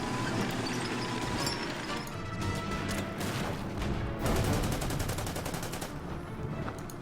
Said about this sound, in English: Artillery fire there.